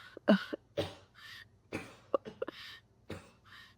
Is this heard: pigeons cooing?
no